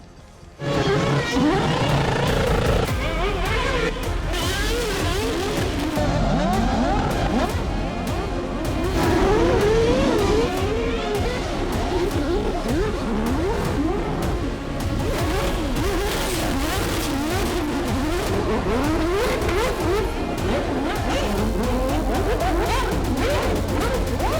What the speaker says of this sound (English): He's literally drifting it round through all the trees.